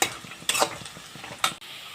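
Onions fry in a pan for a home biryani, with a constant crackling sizzle up close and two or three loud scraping strokes of a spoon stirring them, and no one speaking.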